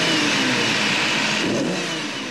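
A vintage Lamborghini 350 GT's 3.5-litre, 280-horsepower 12-cylinder engine revs, giving a loud, steady, close roar that eases slightly toward the end.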